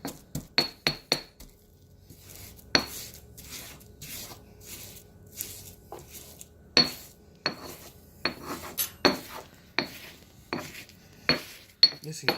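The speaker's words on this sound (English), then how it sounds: "My mortar and pestle is probably one of the most used things in my kitchen" Mortar and pestle pound and grind garlic, sundried tomato and salt into a rub: sharp ceramic clinks and knocks in uneven bursts, some quick repeated strikes, with softer grinding scrapes between, up close in a kitchen.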